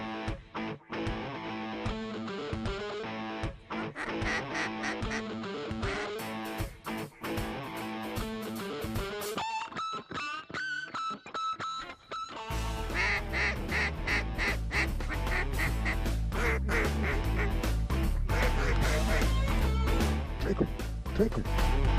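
Ducks quack and honk heavily during a duck hunt in Arkansas, with dense overlapping calls, apparently from duck calls and decoys, under music, then louder and more continuous as the scene goes on.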